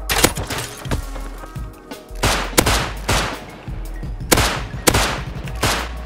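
Explosive ammo raid gunfire in the game Rust: repeated loud bursts of shots in clusters, with sharp cracks and booming thuds at close range, running without talk.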